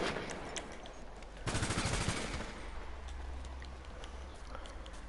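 Rapid gunfire bursts out loudly for under a second in the middle, standing over a steady background hiss with scattered faint clicks and ticks; no one speaks.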